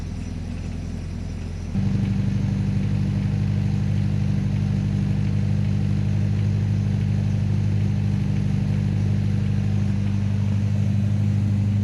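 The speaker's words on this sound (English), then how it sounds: "This car sounds so good when it's cold" A cold car engine idles steadily at around 1000 to 1500 RPM, then steps up to a louder, fuller drone after about two seconds and holds there with a deep, continuous rumble, close and alone without voices.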